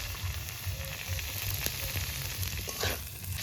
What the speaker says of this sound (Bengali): আলুগুলো এখনো ভাজা হয়নি একটু ভাজা হোক